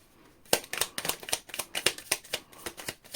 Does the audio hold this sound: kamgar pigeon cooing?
no